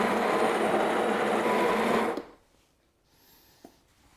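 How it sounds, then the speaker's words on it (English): A Sage espresso machine's built-in coffee grinder whirs loudly and steadily for about two seconds, then stops abruptly, leaving near silence with a faint click. "Just activate the grinder."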